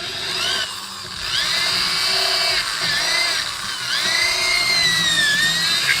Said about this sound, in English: I can drill a 2x4